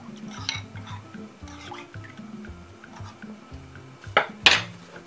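Thick corn flour porridge stirred in a pot, with soft scraping and clinking of a utensil against the pot, wet sloshing, and a couple of sharper metallic knocks near the end, heard close with no talking.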